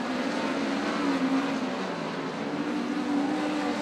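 A racing car in a dirt-track A-Main event drones steadily along the track, its engine note holding a continuous mid-pitched hum that shifts slightly without pauses.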